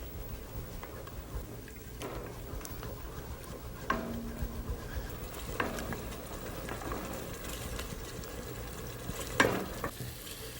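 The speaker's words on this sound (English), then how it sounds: "You should fry your paste masala for about 1 or 2 minutes." Paste masala frying in a pan, a soft continuous sizzle broken by intermittent scraping stirs and light clinks of a spoon against the pan, with no voices.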